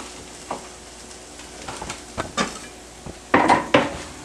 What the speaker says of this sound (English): Let's stack our bacon up. And just chop it rough into small pieces.